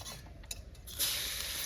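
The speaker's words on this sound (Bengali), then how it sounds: "এখন দেবো পেঁয়াজ।" Chopped onions drop into hot oil with tempering spices for a traditional jiol fish curry, setting off a sudden loud sizzle that keeps hissing steadily after a few quiet clinks.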